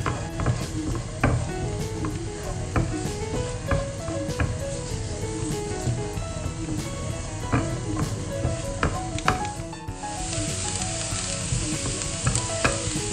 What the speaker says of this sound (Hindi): प्याज इसमें मैं फ्राई करूँगी जब तक थोड़ी ट्रांसलूसेंट ना हो जाए और सॉफ्ट नहीं हो जाती